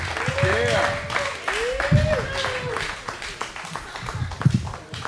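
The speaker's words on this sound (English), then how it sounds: "Give everybody a round of applause." Clapping rises from the audience of a livestreamed comedy show after a short comedy set, in uneven bursts mixed with voices talking and cheering loudly over it.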